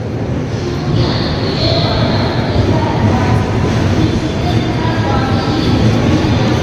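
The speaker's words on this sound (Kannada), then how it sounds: "ಕಾಣ್ತಾ ನಮ್ಮ ಟ್ರೈನ್" Loud, continuous rumbling roar of a train rolling past nearby, steady throughout with faint higher squeals.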